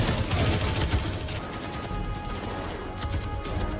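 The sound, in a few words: gunfire exchanged in a film scene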